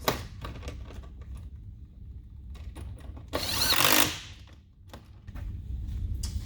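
A power tool briefly runs to tighten fender extension fasteners on a Kawasaki KRX 1000, one loud burst of about a second standing out midway among light clicks and handling noises.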